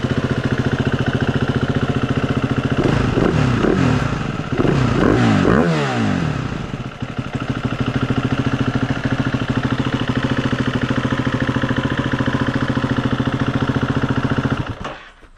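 A 2019 Husqvarna FE350 dirt bike engine, just fitted with a new spark plug after failing to stay running, idles steadily and loudly up close, with a couple of quick throttle revs early on before settling back into an even idle.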